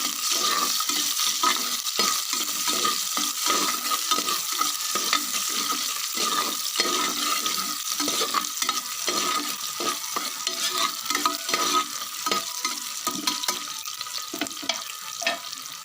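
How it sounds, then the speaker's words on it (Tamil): Chopped onions, about three, frying in oil for a spicy Hyderabad chicken gravy, a dense continuous sizzle with scraping stirs and crackles throughout, close and steady, no voices. "இப்போ ஆனியன் ஆட் பண்ணிட்டோம். இப்போ பாருங்கள், நல்லா பொரிஞ்சு ஒன்றோட ப்ரௌன் நிறத்தில் வரணும்."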